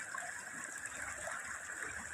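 Water rushes steadily through a channel at a fishing spot, making a continuous close gushing flow with no pauses.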